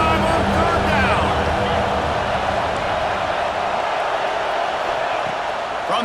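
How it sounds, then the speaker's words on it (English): A dense, steady roar from the Ohio State home crowd in the College Football 26 video game, holding loud and unbroken throughout with no clear peaks. "The Buckeye crowd alive on 3rd down"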